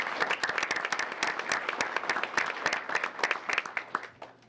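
An audience applauds grant recipients from local elementary schools, with dense, lively clapping from a modest crowd, moderately loud and continuous before tapering off near the end.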